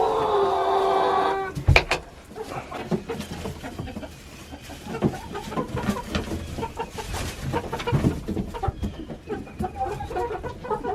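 Homestead chickens clucking in the morning, a mix of soft clucks and fowl calls at moderate distance after a brief loud opening sound, with a person briefly speaking.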